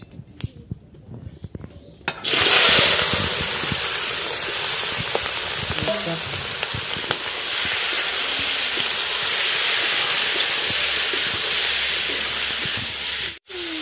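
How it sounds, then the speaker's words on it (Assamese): Raw meat hits a very hot oiled wok and bursts into a loud, steady, close sizzling hiss that starts abruptly after a couple of quieter seconds and keeps going without a break. "এতিয়া আমাৰ মাংসৰ কেৰাহীটো গৰম হৈ গ'ল। এতিয়া দি দিম মাংসখিনি।"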